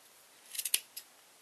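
Large scissors snip through a yarn pom pom, a few crisp, close cuts bunched together and then one more, in an otherwise quiet room with no talking.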